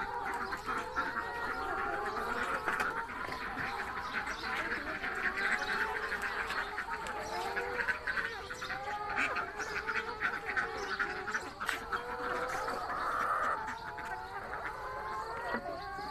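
Ducks kept for eggs fill a coop with continuous, overlapping quacks and gargling calls, steady and fairly close throughout, with no talking.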